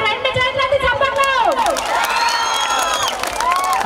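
An outdoor crowd at a Bonalu festival event cheers and claps, with loud rising shouts and whistles carried over a burst of clapping that swells toward the end.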